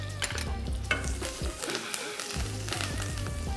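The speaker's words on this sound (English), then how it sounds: "So we nicely, beautifully saute them, okay, till they are nice and little brown" Garlic and curry leaves sauteing in a pan, a steady crackling sizzle with scattered pops and light stirring scrapes, close and continuous without talk.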